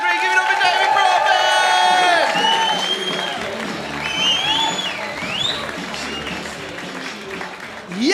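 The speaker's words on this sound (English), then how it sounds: "Let's stamp our feet, clap our hands," Comedy club crowd in Manchester bursting into loud applause, cheers and whoops for a comedian taking the stage, dense clapping and shouting throughout with voices calling out over it.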